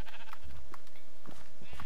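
A Minecraft sheep gives a few short bleats, close and clear, repeated in quick succession over a steady background hum.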